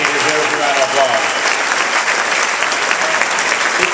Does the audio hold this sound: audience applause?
yes